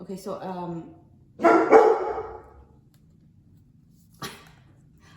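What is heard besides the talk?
dog barking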